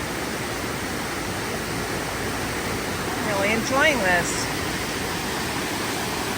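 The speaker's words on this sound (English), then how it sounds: "this is the top of that last waterfall right there" Waterfall at Rollo Falls, a steady broadband rush of falling water heard up close, constant throughout, with a brief spoken voice and a short higher sound near the middle.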